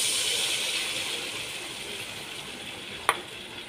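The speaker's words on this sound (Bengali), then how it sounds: "এবার আমি 1 বাটি জল দিয়ে দিচ্ছি।" Water is poured into a pan of frying fish curry, giving a steady close sizzle and hiss that slowly fades, with one brief sharp clatter near the end.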